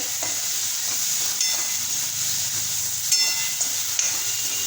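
Spice masala frying in oil for a chickpea and potato curry, a steady soft sizzle with faint stirring clinks, close and continuous with no talk.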